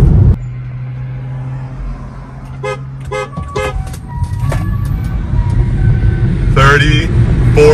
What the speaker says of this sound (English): That was a 30 roll, guys, and this car just pulls on the older LFP.